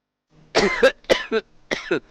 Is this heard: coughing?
yes